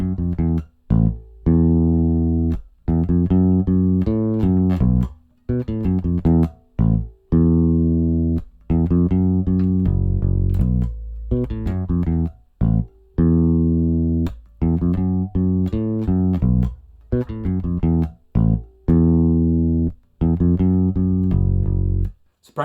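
Bass guitar plays the full riff of a song, a repeating pattern of deep, sustained plucked notes with short gaps between phrases, close and loud with no other sounds.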